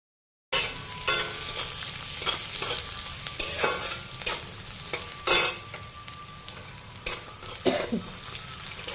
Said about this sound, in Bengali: এদিকে পেঁয়াজটা ভেজে নিচ্ছি পেঁয়াজ লঙ্কা